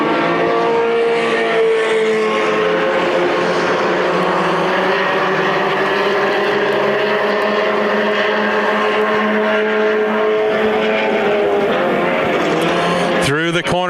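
NASCAR dirt race cars at Adams County Speedway in Iowa roar through a corner in a loud, sustained engine drone, with pitch bending as the cars pass close by near the end.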